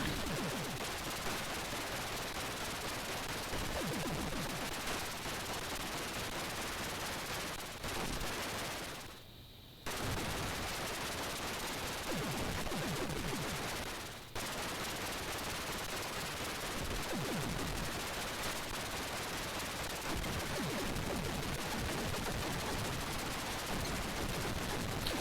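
Rapid synthesized gunfire from the Atari 8-bit shooter Warhawk rattles on as a dense, continuous stream of shots, broken by one brief pause near the middle and a short dip shortly after, then resuming at the same steady pace.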